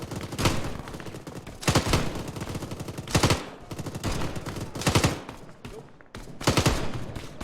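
Machine gun fire in Arma 3 during a Falklands War operation, loud repeated bursts of automatic fire close by, about six separate bursts with short gaps between them.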